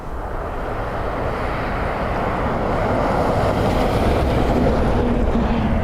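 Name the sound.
airplane landing in headwind at Dublin Airport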